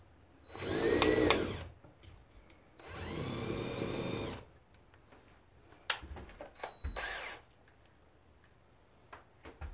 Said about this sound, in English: That drill bit is no longer any good.